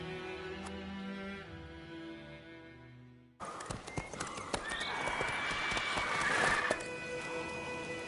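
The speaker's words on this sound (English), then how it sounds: "Whoa there, Roach" Horse hooves clip-clop steadily in The Witcher 3 video game, rising to a quick close trot, with a whinny among the hoofbeats after an earlier stretch of musical tones.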